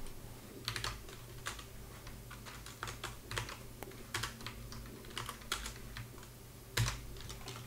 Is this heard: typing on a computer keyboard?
yes